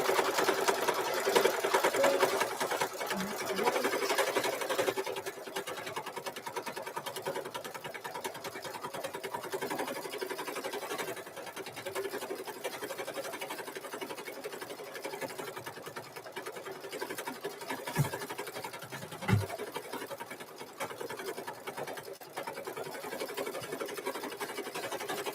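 An embroidery machine stitches out brown thread on a mug rug with a steady, quiet, fast mechanical whir that runs throughout, broken by a few faint clicks.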